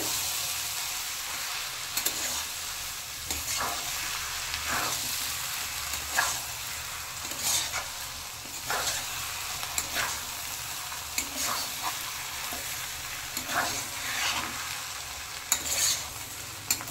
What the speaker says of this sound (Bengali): এভাবে কিছুক্ষণ বাদে বাদে তরকারিটা নেড়ে দিতে হবে